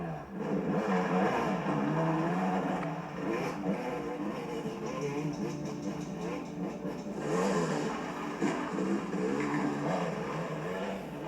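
A car drives along a road, its engine droning and whirring steadily at a moderate distance, rising and easing slightly in pitch without any clear break.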